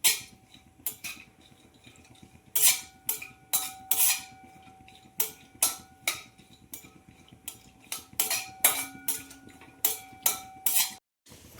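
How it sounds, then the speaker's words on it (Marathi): A metal spoon scrapes and clinks repeatedly against a pan while dry fruits are sautéed in ghee for homemade carrot halwa, the sharp irregular strikes close and clear with no talking. "छान आता ड्रायफ्रुट्स परतून घेऊया।"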